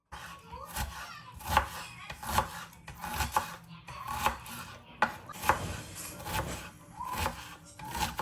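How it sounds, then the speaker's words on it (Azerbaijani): Repeated knife chops through onion on a cutting board, steady rhythmic strikes about twice a second, close and fairly loud, with no talking. "Soğanı çox da iri olmamaq şərti ilə doğrayıram."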